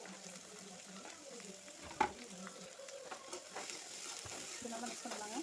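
Onions, green chillies and vegetables stir-fried with spices in a pan for masala Maggi, a steady close sizzle with repeated spoon scrapes and one sharp clack against the pan.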